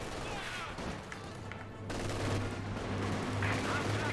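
MG42 machine gun fire rattles in a strategy video game, coming as quiet, distant bursts beneath a steady low hum and a commentator's voice.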